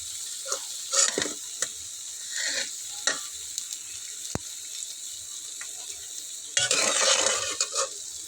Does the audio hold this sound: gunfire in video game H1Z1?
no